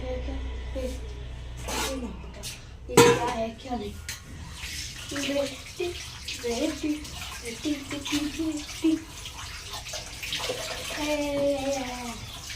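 Water runs and splashes close by as live fish are washed, a steady gushing flow like a tap or tub filling, with people talking over it.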